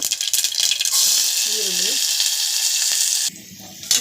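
Mustard seeds splutter and pop in hot oil on the stove, a close crackling sizzle with scattered sharp pops and a brief rattle, quieter toward the end.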